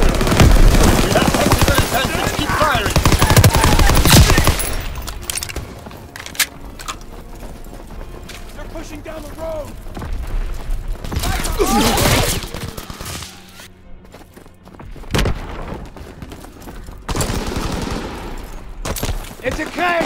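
Dense gunfire in a Call of Duty: WWII battle: bursts of machine-gun and rifle fire, loudest in the opening seconds and returning in later volleys, with shouted voices and battlefield noise between.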